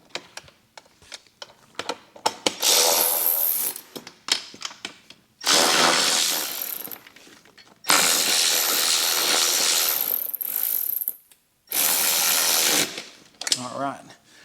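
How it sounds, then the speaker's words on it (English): Ratchet tightening mounting bolts during a Hertz Stage 4 plug-and-play amp install on a 2022 Harley, heard as several loud sustained bursts of rapid clicking with short pauses between them, close up. "I'm going to take my ratchet, tighten the 2 that I can get to with my tool."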